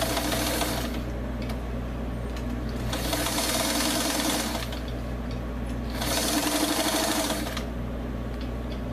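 A sewing machine runs close and loud while stitching a quarter seam on a dress panel, in three sustained whirring bursts separated by brief pauses, over a steady low hum.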